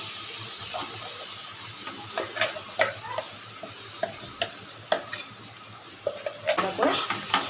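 A ground spice paste goes into a frying pan of vegetarian chickpea dish and gets stirred, with a continuous sizzle broken by repeated sharp scrapes and clinks of a spoon against the pan.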